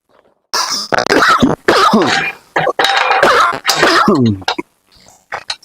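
Several harsh coughs in quick succession with some throat clearing, close and loud, separated by short pauses.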